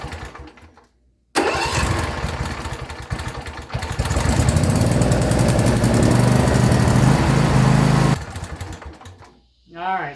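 A John Deere S130 lawn tractor engine cranks and catches, then runs loud and steady close by for several seconds before cutting off.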